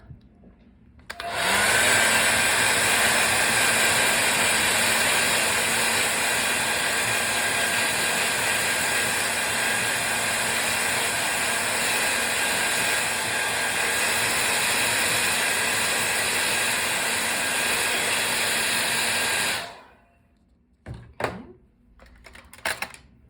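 A hair dryer blows steadily at close range for about eighteen seconds, drying a watercolor painting, a loud constant whir, then cuts off, leaving a few faint clicks and handling noises.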